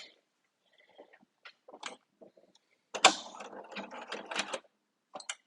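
A sewing machine jams on its first stitch, giving scattered faint clicks and mechanical knocks followed by a short, rough, labored burst of grinding before it stops.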